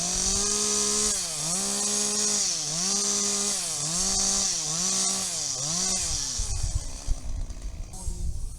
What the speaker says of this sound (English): So what you can hear in the background is Johnny Chainsaw